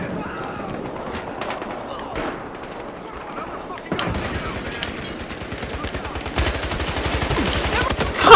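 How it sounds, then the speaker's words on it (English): Sustained automatic gunfire in the video game Battlefield Hardline, rapid loud bursts that intensify toward the end, with someone talking over the shooting. "I'm freaking shooting at him!"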